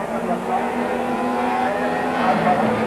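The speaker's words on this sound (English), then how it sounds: "it was Timm who led away at the start from Franchitti, with the alphas of Larini and Nannini behind, ahead of Ludwig's Opel" Touring race cars accelerate away from the start of a race on a tight circuit, with a steady engine roar heard under a commentator's voice.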